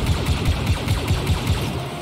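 Rapid blaster gunfire from Star Wars Battlefront 2 fires in a fast repeating burst of about a dozen evenly spaced shots, loud and close, tapering off at the end.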